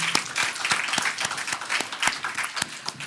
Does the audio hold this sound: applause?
yes